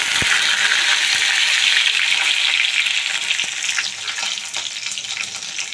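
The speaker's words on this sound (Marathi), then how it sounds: "राई जिरे तडकायला लागले." Mustard seeds and cumin sizzling and crackling in hot oil with curry leaves, a bright, steady frying hiss with a few sharp pops that eases slightly toward the end.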